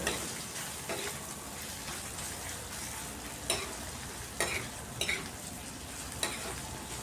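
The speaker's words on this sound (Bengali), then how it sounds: "এবার পেঁয়াজ রসুন আদাটাকে একটু লাল লাল করে ভেজে নিতে হবে।" Onion, garlic and ginger fry in mustard oil in a pan with a continuous close sizzle, broken by occasional scraping clicks as the mixture is stirred. No one talks.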